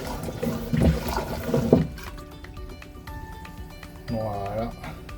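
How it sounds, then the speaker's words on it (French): Water gurgling and flowing through a Jabsco marine toilet pump on a sailboat, short rushing bursts after someone speaks, fairly close and moderate in level. "On remet de l'eau."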